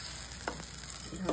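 Ghee crackles and sizzles in a pan while oats chilla batter cooks, a brief, faint frying hiss with a few small pops.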